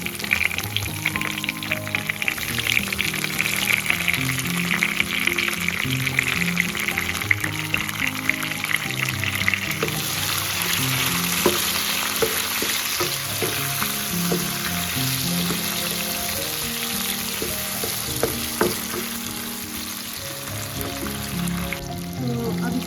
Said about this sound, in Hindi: तो अब इसमें डालूंगी मैं टमाटर, जो मेरे टमाटर सलाद वाले कटे रखे थे।